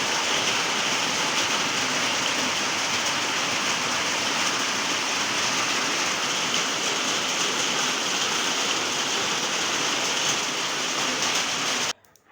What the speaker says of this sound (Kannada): ತುಂಬ ಅಂದರೆ ತುಂಬಾ ಮಳೆ ಬರ್ತಾಯಿತ್ತು